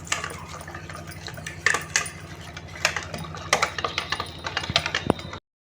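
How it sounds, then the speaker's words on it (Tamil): Wheat dosa batter is stirred with added water in a bowl, giving a quick rhythmic run of wet slaps and utensil clinks against the vessel, close and moderately loud, ending abruptly. "சேர்த்துட்டு நல்லா கெட்டி இல்லாமல் கலந்து விட்டுருவோம்."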